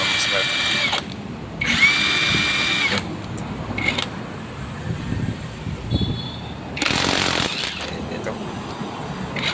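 Impact wrench loosening a bolt: several short, loud bursts of whirring hammering separated by pauses, close by, with someone speaking between and over the bursts.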